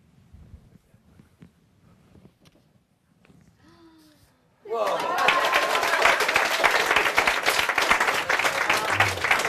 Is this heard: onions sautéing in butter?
no